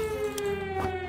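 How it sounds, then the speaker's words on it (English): Siren from the video game 60 Seconds, a sustained steady wailing tone with strong harmonics, loud and continuous throughout the short moment with no talk over it. "It's just going to start with the siren."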